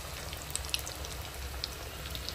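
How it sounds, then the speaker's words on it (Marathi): Prawns laid one by one into hot oil to fry crisp and golden, a dense continuous sizzle with small pops and spatters, close and steady. "मस्तपैकी क्रिस्पी गोल्डन ब्राऊन असं मी फ्राय करून घेणार आहे"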